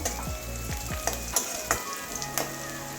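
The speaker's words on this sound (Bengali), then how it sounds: "পেঁয়াজ রসুন ভাজা হয়ে গেছে এবারে কালো জিরেটা দিয়ে দেবো" Nigella seeds frying in hot oil with onion and garlic for a Bengali water spinach dish, a steady close sizzle broken by several sharp scraping stirs of a spatula against the pan.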